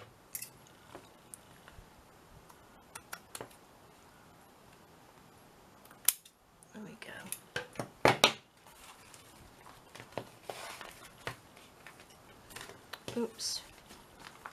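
Scissors snip a small piece off while a handmade journal is being finished, a few faint, quick clipping sounds among rustling paper and light handling noises, with a person talking softly throughout.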